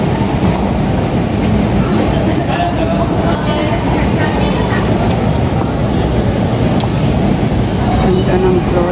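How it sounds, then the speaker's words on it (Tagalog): A ride on an MRT metro train, with a steady loud low rumble of the moving carriage and faint wheel clatter throughout, voices occasionally heard in the background. "Sa MRT pa lang to."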